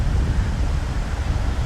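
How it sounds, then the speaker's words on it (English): A strong, keen wind blowing in off the sea at Playa de Muro beach in Mallorca, a steady loud roar buffeting the microphone with a low rumble of surf beneath, continuous and with no voices. "there is a very keen wind blowing off the water"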